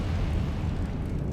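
An Incendio fire spell cast in Hogwarts Legacy, a dense, deep, roaring whoosh of flame that holds steady for just over a second without any voice.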